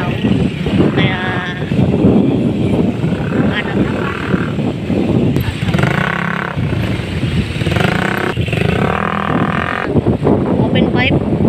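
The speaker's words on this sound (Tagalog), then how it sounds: "open pipe. Maingay." A vehicle with a loud open-pipe exhaust roars and revs nearby in traffic, with its rough engine note rising and falling under people talking.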